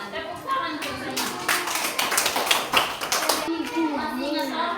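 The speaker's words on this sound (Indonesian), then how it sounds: "Tepuk tangan untuk semua." Schoolchildren in an Indonesian third-grade classroom give a burst of rhythmic clapping lasting about two seconds, with a teacher's voice heard just before and after.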